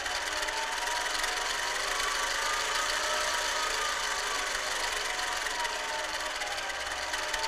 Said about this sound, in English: as I change the current command, the lathe changed the speed